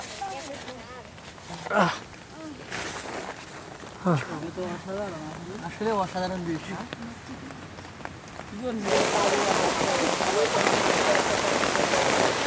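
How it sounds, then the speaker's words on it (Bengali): Voices talk for several seconds, then a heavy, steady hiss of rain suddenly drums down on a tent and continues loudly. "আর বেশিক্ষণ বাইরে থাকা যাবে না"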